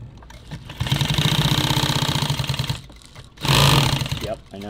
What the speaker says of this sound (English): Sew back through all of this a lot.